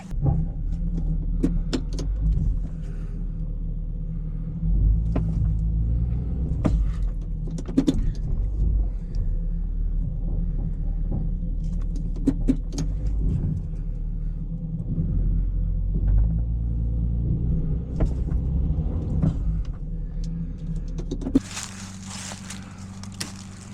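A truck engine strains to pull a 1977 HydraSports bass boat out of a hole, a steady loud low rumble with small clicks and jingles over it, ending with a brief louder burst.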